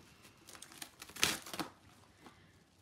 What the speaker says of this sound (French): je vais utiliser tout simplement de la pellicule moulante de cuisine